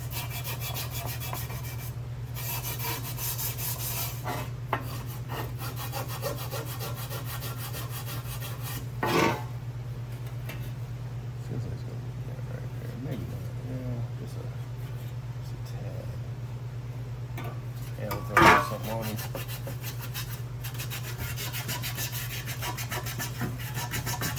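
A rusty car part rubbed with a Scotch-Brite abrasive pad gives a steady, close rasping scrub that runs through the whole stretch, with a couple of brief sharper knocks, over a constant low electrical hum.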